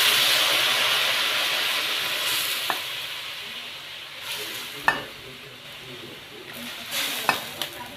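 Beef broth goes into a pot of taro and meat, which hisses and sizzles loudly at first and then settles to a softer simmer, with a few sharp clinks and stirring knocks.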